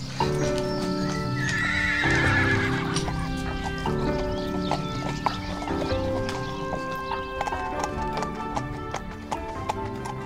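A horse ridden on an outdoor hack whinnies loudly near the start while hooves thud and clip-clop in a rhythmic gallop, with hen clucking faintly in the background.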